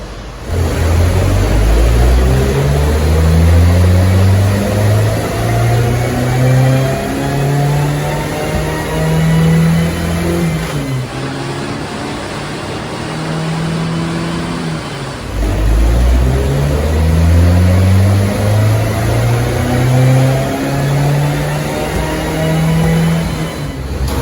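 Two loud, sustained revving runs of a 1969 Renault 10 engine on a dyno, each climbing steadily in pitch with a rising whine, separated by a brief drop in engine speed. Close and alone, with no talk.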